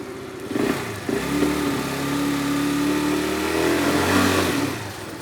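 A Falcon Nitro 50 nitro engine runs steadily just after an oil change, a continuous buzzing drone that swells and rises in pitch in revving surges, close and loud with no voices.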